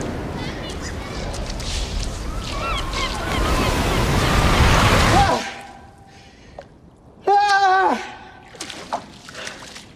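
Ocean waves surge on a beach in a film soundtrack, a loud wash of surf that cuts off abruptly into near silence, followed by a brief honking call and scattered faint sounds.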